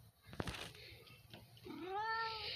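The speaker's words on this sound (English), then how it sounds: "Oh, did anyone bring a cat here?" A cat meows in a noisy school setting, a single drawn-out wavering meow rising at the end after some brief clattering sounds.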